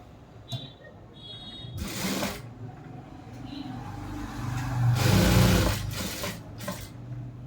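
A sewing machine stitches the neck lining of a churidar top in two short, fairly loud bursts, with quieter handling noise between them.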